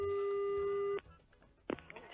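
A steady telephone line tone sounds loud and unbroken for about a second, then cuts off abruptly, leaving a quiet line with soft clicks and a brief rustle as a prank call is dialed.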